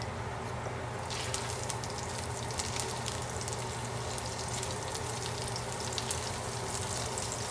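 Rosemary and butter sizzle in a seasoned old Wagner Ware cast iron skillet, a continuous crackling fry with fine popping spatters, steady and fairly quiet throughout without any voices.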